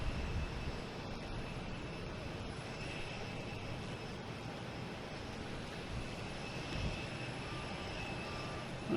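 British Airways jet airliner at Boston Logan Airport, a distant, faint, steady engine roar with a broad rumbling wash that holds evenly throughout.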